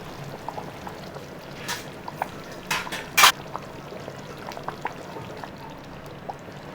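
Ground coconut spice paste is poured into a pot of mutton kulambu curry: a soft, close, wet pour with a few brief splashy bursts over a steady low kitchen background.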